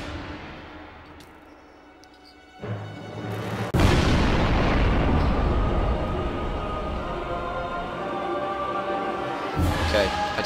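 Explosions blowing up an enemy base in Minecraft burst in at about the two-and-a-half and four second marks. A loud, dense rumbling roar follows and sustains to the end, with a fresh blast near the close and voices underneath.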